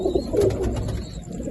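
Pigeon on a loft, a close, low throaty cooing that rolls continuously through the moment without any voices.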